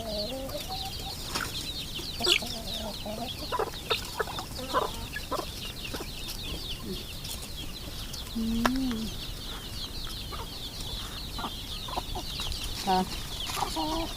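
Hens cluck and murmur nearby, with occasional sharper squawks rising over a steady, noisy outdoor background.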